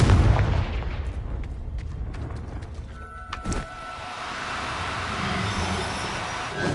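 A Confringo fire spell in Hogwarts Legacy sets off a loud rumbling blast at the start, which fades into a crackling, roaring fire with a sharp crack in the middle before a steady hissing rumble carries on to the end.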